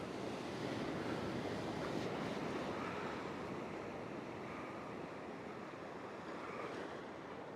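Ocean waves washing over coastal rocks at a rock fishing spot, a steady loud roar of surf and wind noise with no talking.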